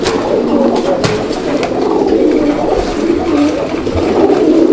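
Gola pigeons at a pigeon sale cooing steadily and close by, a continuous throaty low murmur with no talking over it.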